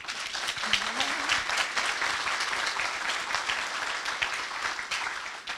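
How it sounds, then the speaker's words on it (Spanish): An audience applauds after a presentation of livestock and climate farm results, steady, dense clapping filling the room for several seconds, fairly even and moderately distant, with a faint voice briefly audible early on. "Un aplauso para Santiago"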